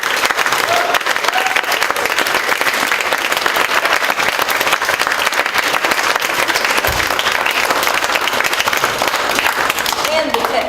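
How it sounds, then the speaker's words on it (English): A theatre audience claps continuously after a student stage performance of Pride and Prejudice, a long, even roar of applause from a crowd, with a voice speaking faintly over it. "Can we give a round of applause to Kaylee over here?"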